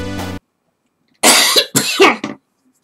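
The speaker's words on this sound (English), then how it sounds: "after having a coughing fit" A person coughs in a loud, harsh burst of three or four racking coughs in close succession near the microphone, after a short tonal game sound and a pause, while playing a Sonic the Hedgehog game.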